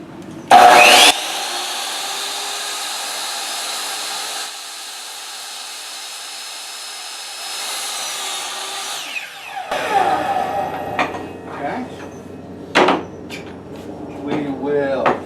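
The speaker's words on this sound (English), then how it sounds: "take a 12-inch stake, mark it, we'll cut that part off." A power saw starts with a sharp burst, then whines steadily for about eight seconds while cutting through a 12-inch stake, winding down into clattering handling noises and knocks.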